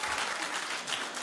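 A television talk show studio audience claps steadily through a quick show-of-hands survey, a dense, even wash of many hands with no voices on top.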